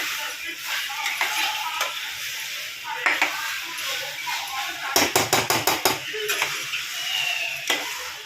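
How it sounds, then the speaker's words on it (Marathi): Pasta being stirred and mixed in a pan at home: a utensil scrapes and clatters against the metal, with a burst of quick rhythmic taps midway, over a soft continuous sizzle close by. "आईने पास्ता टाकून हे मस्तपैकी एकदम व्यवस्थित मिक्स करून घेतलंय"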